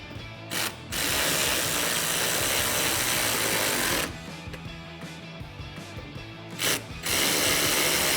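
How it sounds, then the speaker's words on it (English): A ratchet with an 8mm socket tightens the fender flare bolts on a 2019-2020 RAM 1500. Close, quiet bursts of rapid clicking come in several separate runs, with brief pauses between them. "Now you can grab your 8mm socket and tighten down the rest of your bolts."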